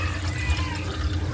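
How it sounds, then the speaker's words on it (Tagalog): Water poured into a bowl of fresh kinilaw, the Filipino raw fish dish, a steady close splashing trickle that runs throughout without a break. "Lagyan na po natin ng tubig po."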